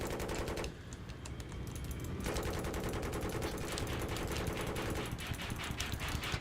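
Sustained automatic machine gun fire in the Battlefield 3 video game, dense rapid bursts filling the whole stretch with a brief lull early on, loud and continuous with no talking.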